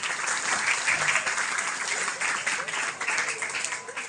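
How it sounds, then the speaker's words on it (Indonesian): Crowd at an Isra Mi'raj school gathering in Ciledug clapping on cue, a loud, continuous wash of many hands lasting several seconds, with voices mixed in. "Tepuk tangan."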